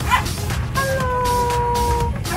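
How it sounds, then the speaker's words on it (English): Nearby dogs give a few short barks, then a drawn-out whining howl, all fairly loud against a background of low rumble. "See the dogs."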